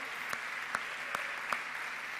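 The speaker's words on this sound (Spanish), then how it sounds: "De un aplauso al Señor." A church congregation applauds at a Spanish-language service, a steady, fairly distant wash of clapping from many hands with a few louder claps standing out, no voices over it.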